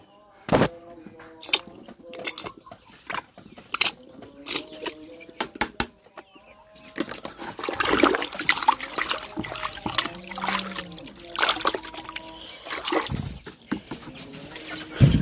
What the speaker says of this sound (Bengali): এখন আমি এই মেডিসিনটা পানির সঙ্গে ভালোভাবে মিশিয়ে নিচ্ছি